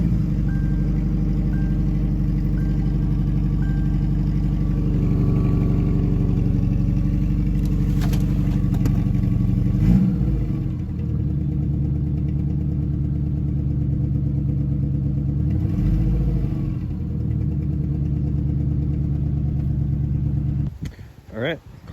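A Subaru EJ 2.5L SOHC engine is started and runs after a timing belt replacement. A steady, loud mid-low drone with clattery bursts is heard along with brief beeps near the start, with speech around it, and it cuts off at the end.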